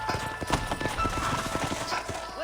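Horse hooves clip-clop steadily over ground in the Western video game Red Dead Redemption, a brisk, even rhythm of several riders with faint game ambience underneath.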